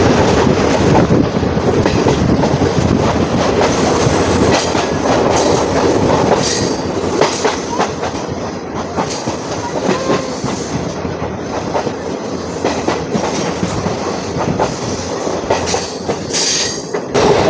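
An Agartala-Karimganj DEMU train rolls along the rails with a loud, continuous rumble, rhythmic wheel clatter and intermittent high squeals of wheels, heard close from on board and steady throughout.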